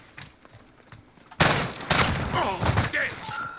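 Video game cluster strike explosions and gunfire erupt abruptly after a quiet stretch, loud bursts and rattling shots overlapping densely to the end, with faint talk before the blasts.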